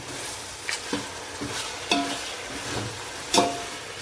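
Chicken pieces fry in a pan for chicken pulao under a steady close sizzle, punctuated by several spatula scrapes and knocks against the pan as it is stirred, with no voices.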